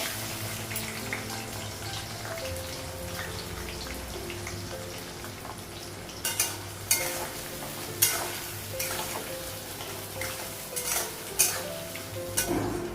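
Onions fry in a pan, making a steady low sizzle with bursts of spatula scraping and stirring clatter in the second half, close by and with no talking.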